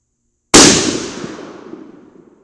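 A single loud, sharp gunshot from a Tikka .308 Win rifle loaded with 150gr Sierra Game King bullets cracks after a moment of silence, then rings out in a long fading outdoor echo.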